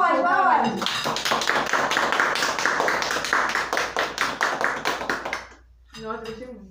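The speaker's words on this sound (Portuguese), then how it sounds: "palmas!" A small group claps steadily for several seconds in a kitchen, with brisk, even hand claps between stretches of talking at the start and end.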